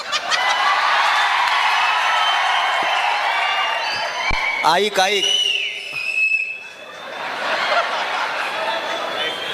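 Whistles and cheering ring out from an audience at a Marathi poetry performance, loud and lively around the middle, with a performer's voice speaking over the crowd noise.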